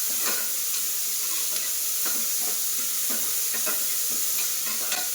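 Chopped onions fry and sizzle in a pan with steady hissing, punctuated by the soft scrapes of stirring, close up and with no voices.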